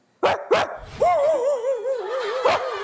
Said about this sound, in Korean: 뭐야 대형견인데